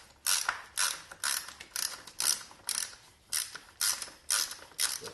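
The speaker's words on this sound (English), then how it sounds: "let's go ahead and put our wrench on there" Wrench ratcheting on the oil filter of a 2008 Yamaha R6 motorcycle: about ten crisp, evenly spaced ratchet bursts, close and clear, with no talking.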